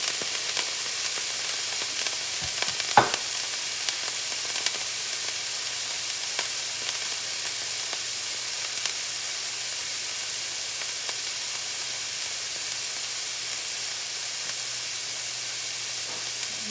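Beef browning in a hot frying pan for keto beef and broccoli, a steady broadband sizzle that holds evenly throughout with one brief sharp clatter early on, no talking.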